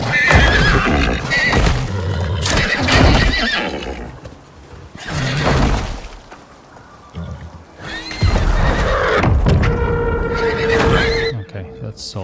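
Horses in the survival game Icarus whinny and neigh several times over clip-clopping hooves, loud and close, with bursts separated by short lulls and a sustained neigh near the end.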